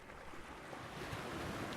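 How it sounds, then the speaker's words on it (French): Sea waves washing ashore, a continuous broad rushing wash heard at a distance with some wind noise across the microphone, steady and fairly soft throughout. "C'est toujours un plaisir d'y aller et d'écouter le bruit des vagues"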